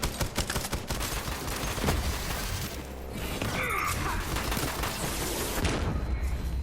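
Borderlands 3 firefight with rapid bursts of automatic gunfire and scattered shots, mechanical clanks and a shattering crash, dense at the start and then thinning into intermittent pops and whirs.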